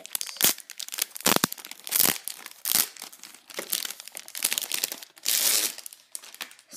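A plastic wrapper being torn open from a lined-paper notebook package: continuous close crinkling and crackling in uneven bursts, with a few sharper rips, and no talking.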